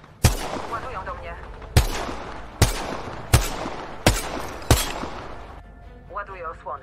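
Gunfire in Apex Legends, six loud sharp single shots spaced about a second and a half apart, each with a short decaying tail, and game voices and sounds between them.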